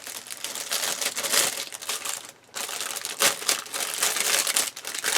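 Crinkly plastic and cardboard packaging of a Ryefield Model 1/35 Tiger I Initial Production Leningrad 1943 kit rustles and crackles close up, continuous with a brief pause midway.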